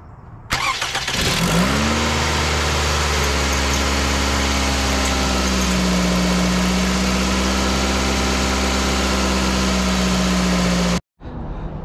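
A Toyota Corolla engine with a catalytic converter problem cranks and catches, then settles into a steady, loud idle with a low droning hum that continues until it cuts off abruptly near the end.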